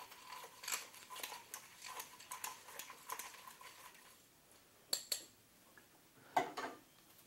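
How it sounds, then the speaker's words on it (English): A spoon stirs raspberry mojito ingredients in a glass, giving a quiet, irregular run of small clinks and taps against the glass, with a few sharper knocks near the end. "taking my spoon, placing that in, and I'm going to give that a big mix"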